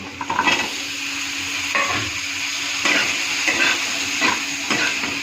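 Potatoes stirred in a frying pan with oil and turmeric, a continuous close sizzle broken by repeated spatula scrapes every second or so, no voices.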